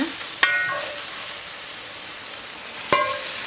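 Steady hiss of lamb meat sizzling in a hot cast iron pot, broken by two sharp metallic clinks, one early and one near the end.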